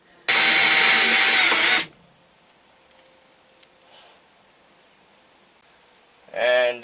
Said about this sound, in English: knock them out and drill the head